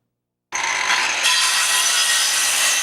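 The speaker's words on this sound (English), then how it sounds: "Saws buzzing, boards flying, and hammers hitting nails." Power saw cutting wood at a storm-damaged Tuscaloosa rebuilding site, a steady loud whine that kicks in abruptly and holds without a break; no separate hammer blows stand out.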